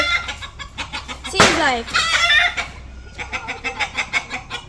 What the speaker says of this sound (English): How so much rooster and fowl left for you there?